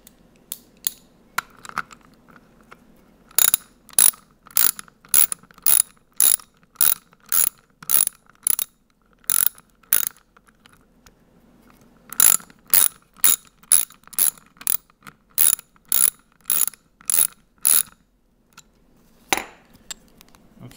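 A Doodle Bug mechanism being tightened back together, giving bursts of crisp, close ratchet clicks in rapid regular runs, with short pauses between the sets of clicks.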